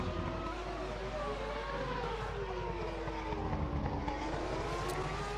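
Race cars lapping the Monaco street circuit in a racing video game, engines whining with rising and falling pitch that sweeps past fairly faintly over a steady low drone, with no one talking.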